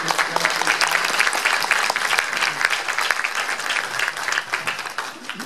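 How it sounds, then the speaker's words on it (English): Steady applause from a seated audience at a talk on transportation, dense and fairly loud, with brief voices in the mix and no clear speech. "Round of applause for Amy."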